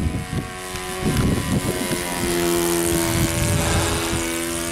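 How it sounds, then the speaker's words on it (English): A model de Havilland 82A Tiger Moth biplane powered by an OS FS 40 four-stroke engine drones steadily in flight, a continuous buzzing tone with slight shifts in pitch, fairly close and loud throughout. "The engine is sounding great."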